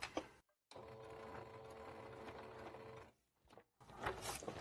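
A home sewing machine stitches bias binding slowly, giving a soft, steady mechanical whir that stops briefly and then resumes with a few more quiet stitches.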